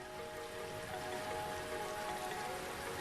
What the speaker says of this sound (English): Then it comes, a torrential downpour.